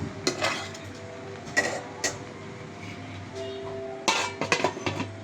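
A metal lid clanks onto a pot of freshly cooked pulao, with a few sharp clinks and scrapes of cookware spaced across a quiet kitchen background.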